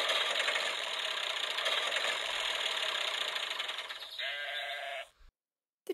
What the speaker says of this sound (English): Every morning, the big red tractor goes brum,